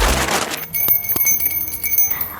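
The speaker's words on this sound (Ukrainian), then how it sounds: "Ми часто чуємо дзвін" A bell rings with clear, sustained tones that hang and slowly fade after a brief burst of noise at the start.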